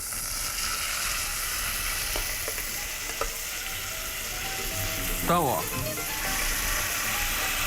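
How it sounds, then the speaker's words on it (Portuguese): Chicken pieces sear skin-side down in a hot pan, a steady bright sizzle with a few clinks and scrapes, while someone says a couple of words in Portuguese. "A minha panela aqui, ó, já tá quente. A gente vai começar a selar o nosso frango com a pele para baixo."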